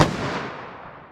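A single gunshot from a Winchester Big Bore rifle chambered in .44 Magnum, fired outdoors: one sharp loud crack at the start, then a long rumbling decay as the report fades.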